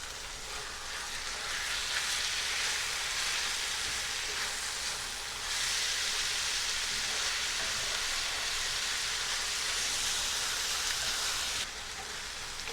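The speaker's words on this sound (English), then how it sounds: "Breaking the beef up and cook this for another 7 or 8 minutes." Ground beef for shepherd's pie cooking in a pan, a steady loud sizzle and crackle running continuously with slight shifts in intensity and no talking.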